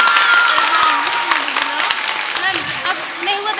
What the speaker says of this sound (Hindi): एक बार तालियां बजा कर तो देखो।